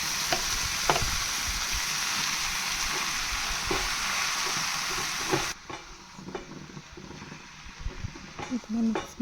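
Grated beetroot fries in a pan with a steady, close hissing sizzle that drops sharply partway through, leaving softer crackles and the scrape and clatter of a spoon stirring.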